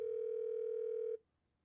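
Telephone dial tone from a phone in The Stanley Parable game, a steady loud hum sounding alone for just over a second before stopping abruptly into near silence.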